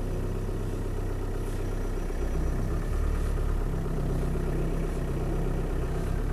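A Land Rover Defender 90 station wagon with a 200Tdi diesel engine idles in a steady, rough low rumble, close and continuous with no talking.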